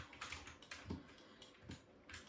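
Quiet, close typing on a computer keyboard, a soft irregular patter of key taps with a few heavier strokes and no voices.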